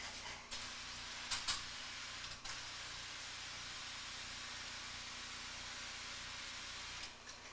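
Brief spritzes of wood cleaner sprayed onto cleaning wipes, a few short bursts scattered over a steady, faint background hiss, with no one speaking.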